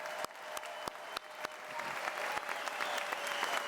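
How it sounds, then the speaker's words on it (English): A crowd applauds military veterans at a high school commencement ceremony, starting with a few loud separate claps that build into a steady, fairly distant wash of clapping. "Let's give a round of applause for all those who have served."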